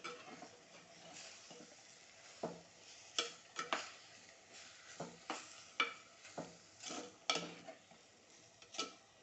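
Avial with coarsely ground coconut paste is stirred in a pot, a series of distinct spoon scrapes and clacks recurring roughly every half second to second over a faint soft sizzle, close and fairly quiet.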